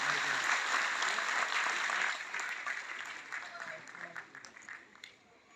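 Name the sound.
audience applause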